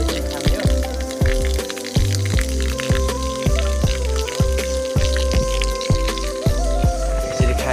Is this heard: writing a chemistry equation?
no